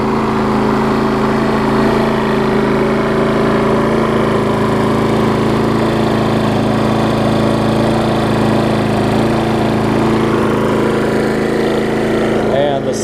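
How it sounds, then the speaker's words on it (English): A Husqvarna self-propelled lawn mower engine runs steadily after being throttled down from wide open, a continuous close droning hum with constant loudness throughout and no break. "And as you can hear, I throttled it down some too, about where it needs to be."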